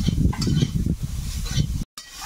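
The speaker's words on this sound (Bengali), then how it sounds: "এখন একটু আলুটাকে ভালো করে ভাজি।" Potatoes frying in a pan while being stirred, with steady sizzle and scraping strokes close up, ending in a brief gap of silence.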